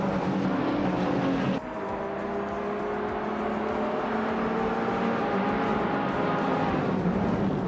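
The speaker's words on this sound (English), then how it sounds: "the race just kicked off at Aviano Intermediate and Nuts is leading the pack on pole with his 1986 BMW M3E30" A field of vintage race cars including a 1986 BMW M3 E30 pulls away at the start of a race, a loud continuous roar of engines with rising tones as they accelerate, steady throughout with no talk.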